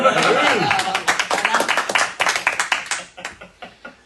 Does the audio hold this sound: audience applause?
yes